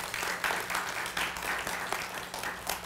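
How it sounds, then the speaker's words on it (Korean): A church congregation claps for the worship team. The clapping is steady and fairly close and fills the whole moment. "찬양팀을 위해서 박수 한번 쳐주죠"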